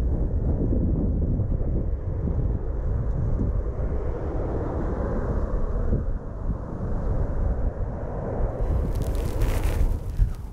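Strong, gusty wind buffets the microphone at an upstream reservoir fishing spot lined with reeds and trees on a cold May day, a steady loud roar that swells into a harsher blast near the end.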